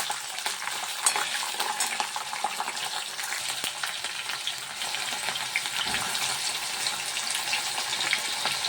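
Peanuts and curry leaves fry in hot oil with mustard seeds for sevai upma, giving a constant hissing sizzle with light crackles and occasional stirring, heard up close and alone.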